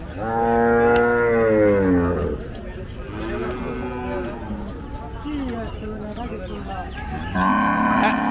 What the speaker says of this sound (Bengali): প্রচুর পরিমাণে গরু কিন্তু বের হয়ে যাচ্ছে হজরতপুর গরুহাট থেকে